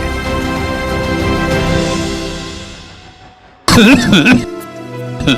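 Music fades down, then a loud burst of harsh coughing breaks in, followed a moment later by another short cough.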